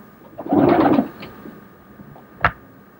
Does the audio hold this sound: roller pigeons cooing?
yes